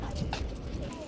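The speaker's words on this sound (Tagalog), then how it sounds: "Mga hyper dito yung mga aso ah." Hyper dogs yip, bark and whimper at a dog park in short scattered bursts over steady outdoor background noise.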